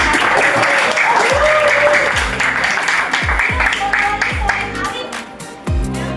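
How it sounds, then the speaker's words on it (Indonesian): A classroom of high school students claps together in a sustained burst of applause, dense and steady throughout, with a few voices mixed underneath. "tepuk tangan dulu dong buat Alfi"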